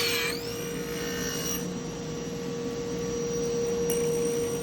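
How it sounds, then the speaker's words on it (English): Table saw with a power feeder ripping 8/4 hardwood stock into narrow strips, a loud continuous whine and steady cutting roar with a motor hum underneath, shifting in pitch at the start, no talk. "So it makes sense to just rip 8/4 stock for my beam molding."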